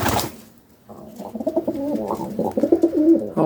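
A strong-flying pigeon, one of a freshly mated pair, coos in rolling, throaty phrases close by after a brief quiet start, the low warbling notes pulsing steadily to the end.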